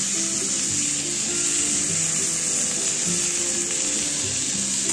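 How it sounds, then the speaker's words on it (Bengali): Potatoes and pumpkin pieces fry in hot oil, a steady even sizzle holding at one level throughout, close and fairly loud, with faint clinks underneath and no voices. "এরপর আলু আর কুমড়োগুলোকে তেলের মধ্যে আমি দিয়ে দিলাম"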